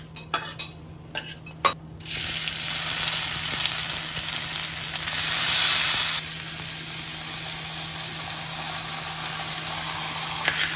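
Ghee sizzles in a pan as bay leaf is fried for basanti pulao, a steady frying hiss that swells for a few seconds after some early clatter, with no talk.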